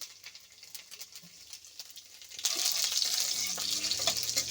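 Garlic and black cumin seeds drop into hot oil in a pan, and a quiet crackle suddenly swells into a loud, steady sizzle that continues to the end.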